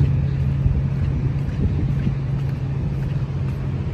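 Steady low roar of strong wind rumbles against the microphone along the Pasig River esplanade during flooding, shaking frangipani trees, with a constant low drone underneath and no talking.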